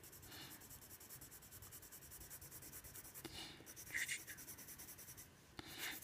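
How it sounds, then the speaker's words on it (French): A Koh-i-noor Mondeluz coloured pencil scratches back and forth across paper in a quiet, close, continuous rhythm of soft strokes, with a few slightly louder scrapes and no speech. "Donc avec le jaune, vous coloriez les étoiles."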